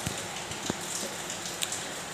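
Rain falls steadily outside a kitchen window, a soft continuous patter with a few sharper drops landing nearby, with no one speaking.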